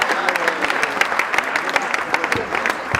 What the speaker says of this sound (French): Applaudissez plus bas, applaudissez plus bas.